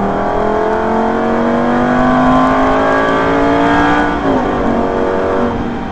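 From inside a Lamborghini Superleggera at Hampton Downs, the engine roars loud and close, revving steadily upward before dropping sharply into a downshift with engine braking, then pulling on again.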